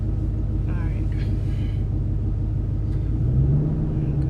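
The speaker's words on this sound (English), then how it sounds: "as you feel the friction point, you're going to hear the car start bogging down a little bit" Low, steady rumble of a manual-transmission car engine bogging down at the clutch friction point, heard from inside the cabin, with a faint rising tone near the end and brief voices early on.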